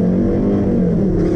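Volkswagen Jetta 2.5 engine pulling hard in first gear, a loud steady low growl that holds throughout, with no talk over it.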